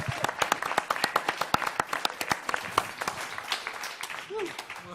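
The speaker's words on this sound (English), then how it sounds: "Come on, give him a round of applause." An audience at the FMX 2010 event claps in a sparse, uneven round of applause, loud and close, mixed with voices.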